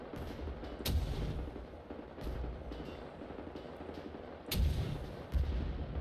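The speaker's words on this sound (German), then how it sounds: "Ich schieße jetzt aber noch einen da oben rein." Gunfire in the first-person shooter Wolfenstein: The New Order: a few heavy, booming shots at irregular intervals, with sharp reports near one, two, four and a half and five seconds over a steady rumbling battle backdrop and no talk.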